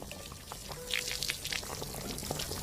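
Water poured to rinse leftover vegetables and meat in a home kitchen, a soft splashing trickle with intermittent drips and clatter, fairly quiet and close.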